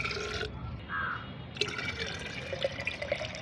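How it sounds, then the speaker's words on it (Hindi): Plain water is poured into a homemade aloe vera fertilizer mix, a soft steady liquid splash and trickle, fairly quiet and close, with no talking. "तो मैं इसमें ये पानी मिलाती हूँ।"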